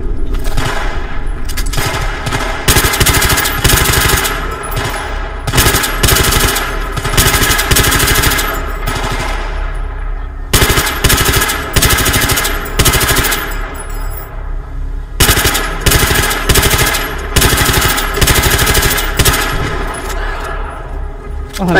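Battlefield 3 gunfire rattles in long, loud, close bursts of rapid automatic shots, broken by a few short pauses, with voices talking underneath.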